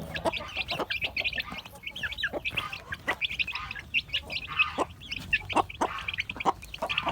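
Several chickens, a hen with her young chicks, cluck and chatter steadily nearby, a busy overlapping run of short calls with no talking.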